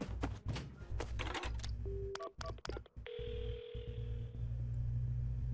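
Telephone dialing in the Paranormasight video game: a handful of clicks and short beeping tones, then a steady ringing tone that continues over a low droning background, with no talking.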